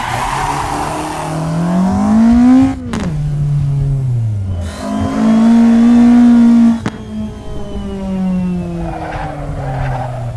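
A car drifting with 90% front brake bias, engine revving loud and close with rising and falling pitch, punctuated by sharp tire squeal bursts, no talk.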